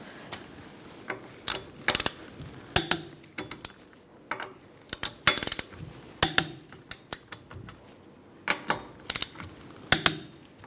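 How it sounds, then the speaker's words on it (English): Sharp metallic clicks and clanks from a socket wrench torquing lug nuts with a 21 mm socket on a 2002-2006 Toyota Camry, sounding as irregular close bursts with quiet gaps between them. "Using a 21 millimeter socket, we're going to torque our lug nuts to 76 foot-pounds."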